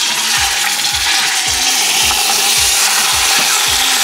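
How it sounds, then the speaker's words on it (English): Beef cheeks sear in a coated stainless steel pan with a loud, steady sizzle and hiss. Faint rhythmic scraping runs underneath. "Another one is searing up right now"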